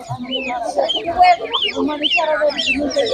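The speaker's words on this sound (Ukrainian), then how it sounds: "Домашня гуска" Domestic geese at a bustling animal market give a run of repeated nasal honking calls close by, with murmuring voices of traders and buyers underneath.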